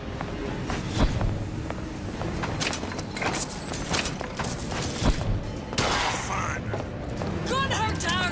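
Rapid gunfire in the shooter BioShock Infinite, crackling shots and metallic clatter over continuous combat noise, with shouted voices from enemies and a player talking over the fight.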